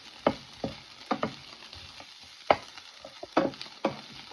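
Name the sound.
taco shell frying in a pan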